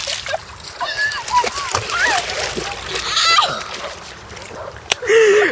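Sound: water splashing during a child's first bath

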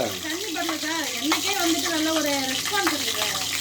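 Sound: onion uttapam batter sizzling on a hot griddle

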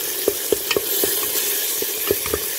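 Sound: tomatoes frying and being stirred for sardine dolma

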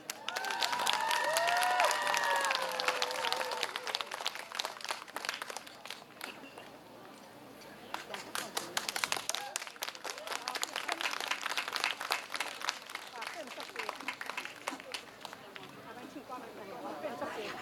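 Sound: audience applause and cheering

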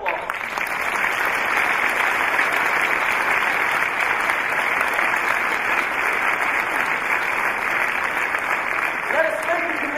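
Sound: audience applause

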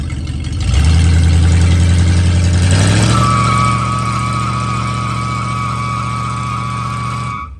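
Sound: 1986 Ford F150 5.0 302 engine revving during burnout

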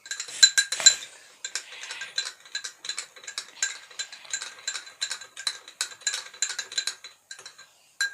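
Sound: stirring sugar into juice

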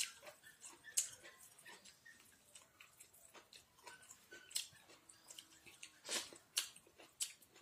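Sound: chewing rice with mutton curry

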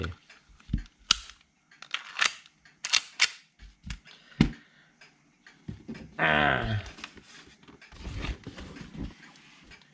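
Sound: WE M1911 A1 BB gun being test-fired

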